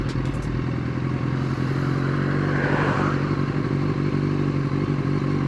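Motorcycle engine idling steadily and close by in stop-and-go traffic, a continuous low rumble with some clatter and no clear rise or fall in revs.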